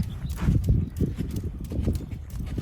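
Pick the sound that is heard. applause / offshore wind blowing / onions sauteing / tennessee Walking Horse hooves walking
tennessee Walking Horse hooves walking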